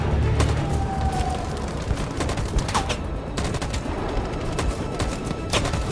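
Gunfire in a battle in the video game Detroit Become Human, a string of sharp, irregular shots and bursts cracking over a loud, dense rumble of background noise.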